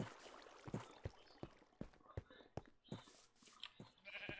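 Minecraft sheep bleating in quick succession, short nasal bleats repeating in an uneven rhythm with small clicks between them, all fairly quiet.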